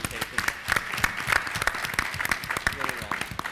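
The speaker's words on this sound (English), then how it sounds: "Can we give one more round of applause to Maeve for that fantastic presentation?" Audience at a 2015 Palo Alto employer summit applauds a presentation, with dense, steady clapping from a sizeable crowd that carries on at an even level throughout, a voice briefly audible within it.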